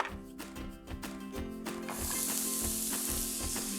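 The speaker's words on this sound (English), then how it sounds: "Keep stirring as well while you're frying them" Close sizzling of onions frying in a pan, with rhythmic scraping from stirring and a steady hiss that grows brighter toward the end.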